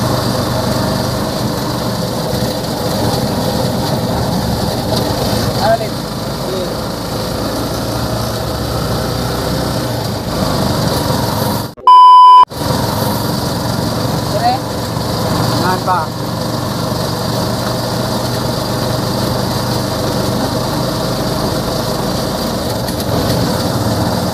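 A motorcycle engine runs steadily and close on a concrete road during a mountain-climbing trip, a constant drone with a brief cutout midway while people talk over it.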